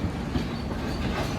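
Passenger express train rolling alongside a parallel goods train made of box and freight wagons, a steady loud rumble with rhythmic clickety-clack of wheels and no voices.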